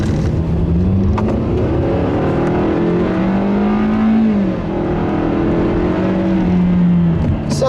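A 2015 Hyundai Sonata family sedan drives on the road, its engine hum rising and falling steadily under constant loud road and wind noise heard from inside the cabin.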